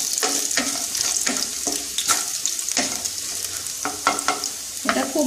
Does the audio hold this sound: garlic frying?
yes